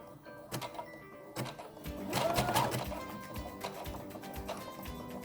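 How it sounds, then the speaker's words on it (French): A sewing machine stitches fabric in a fast, rhythmic mechanical patter that swells in the middle and keeps running close by without talk. "Moi je choisis de les faire à la machine à coudre."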